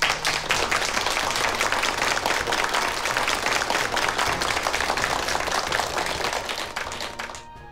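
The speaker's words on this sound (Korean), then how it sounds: "박수로 환영합시다." Audience applause welcoming guests at a Christian church gathering, steady dense clapping from a crowd throughout, fading out at the end.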